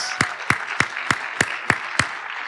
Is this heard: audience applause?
yes